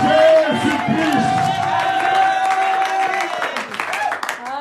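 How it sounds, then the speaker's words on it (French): A church congregation loudly acclaims Jesus Christ, a sustained roar of crowd cheering and shouting with scattered clapping that stays dense and close throughout, rising in bursts near the end. "Est-ce que tu peux acclamer très fort Jésus-Christ?"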